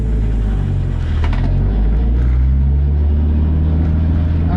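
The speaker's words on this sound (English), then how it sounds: "It's really noisy in this car, as you guys can probably hear." Loud, steady engine drone inside the cabin of an S14 drift car with an RB25DET engine, deep rumbling hum with a slight rise in revs, constant throughout with no talking.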